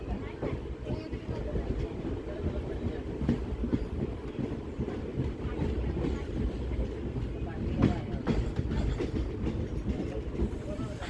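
The Koyna Express rolls along the rails between Mumbai and Kolhapur, a steady rumbling drone with scattered clicks and clatters of the wheels, heard from inside the moving train.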